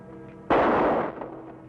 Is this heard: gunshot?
yes